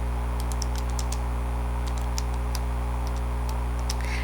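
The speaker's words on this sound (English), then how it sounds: "Go to y equals and just type in the equation." Keys tapped on a graphing calculator while entering an equation, a series of light, irregular clicks over a steady electrical hum, with no speech.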